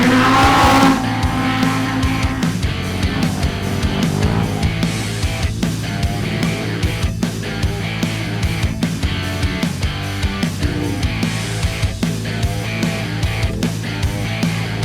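Off-road race vehicles rumble at the Mint 400 start line in the desert, with dense overlapping engine noise, revving and occasional sharp bursts lasting throughout, loud and close.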